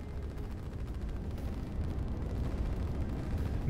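A rocket shot down over a defensive line in the strategy game Line War: dense, rumbling explosive bursts and crackling gunfire-like pops form a continuous, moderately loud barrage that builds slightly toward the end.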